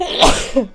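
A single short, sharp sneeze bursts out close by, followed by a brief word spoken right after.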